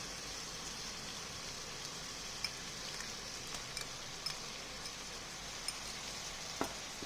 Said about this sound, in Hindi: इसका कच्चापन दूर होने तक प्याज और टमाटर के साथ इसे फ्राई कर लेंगे